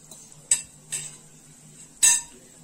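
Spoon scraping and clinking against a pan while sesame seeds are stirred with flour and ghee for Egyptian agameya, three sharp metallic scrapes spaced apart over a faint low hum, close and moderately loud.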